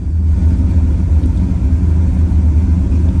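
A 1980 Chevy Camaro engine runs with no idle, the throttle held open, giving a loud, steady, close-up low rumble that stays constant without pauses.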